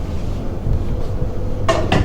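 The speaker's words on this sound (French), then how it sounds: "Déjà la marmite au feu." A cooking pot set down on a stove while frying is being prepared, giving two sharp metallic clanks near the end over a steady low kitchen hum.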